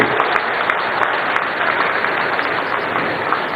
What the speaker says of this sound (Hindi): तालियों की गड़गड़ाहट से सचमुच नितिन जी का अभिनंदन किया जाना चाहिए